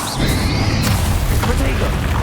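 Spell explosions in the video game Hogwarts Legacy during a duel against a dragon, with a heavy booming blast and a sustained rumbling roar filling the short stretch, loud and dense throughout.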